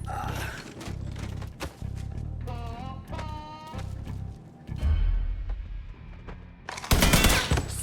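Gunfire in the video game Mafia III, loud repeated shots and thuds in bursts with a heavy blast near the end, a tonal music or effects passage in the middle.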